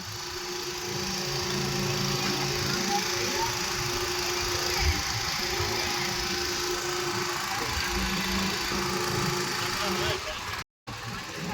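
A motorboat engine drones steadily and loudly on a river, a continuous mechanical hum that cuts out briefly near the end.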